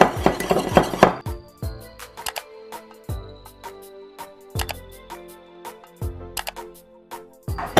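Dried herbs and spices with paprika being mixed for a homemade all-purpose seasoning, a quick burst of rattling followed by sharp metallic clinks of a spoon against a bowl, near and spaced out, no speech.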